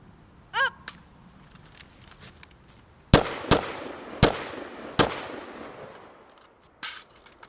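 An AR-15 rifle fires four sharp, loud shots at targets outdoors, with uneven gaps between them and each crack echoing briefly. A fifth shot follows after a pause.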